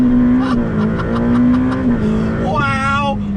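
A Ferrari F8 Tributo revs hard in first gear, its engine note climbing steadily close by, then dipping briefly before a fresh rising pull near the end.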